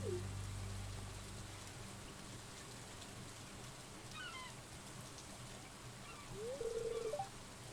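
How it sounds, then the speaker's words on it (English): Steady rain falling in the Stardew Valley farming game, a soft continuous hiss with a few brief tonal game sounds rising above it near the start and end. "I'm surprised to find you out here in the rain."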